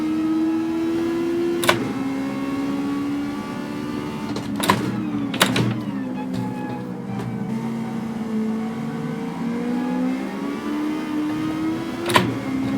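Logitech shifter bundled with the G923 wheel, sharp mechanical clicks at a few scattered moments as gears change in Gran Turismo 7, over a steady engine hum that rises and falls.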